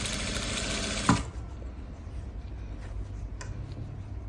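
Sewing machine stitching a cuff, a loud steady whirring run that stops abruptly after about a second, leaving quiet room noise with a faint click.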